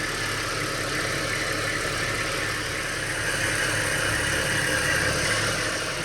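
A Ford XR6 with a 2.5 Barra engine swapped in idles steadily in the engine bay. It makes a constant, even running drone with no talk over it.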